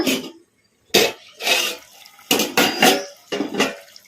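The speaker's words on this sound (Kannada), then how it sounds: "ಈಗ ತಟ್ಟೆ ತೆಗೆದು ನೋಡೋಣ" A pan lid lifted off chicken fry cooking on the stove, giving several short clattering metal knocks and scrapes in separate bursts, close and fairly loud, with no talking.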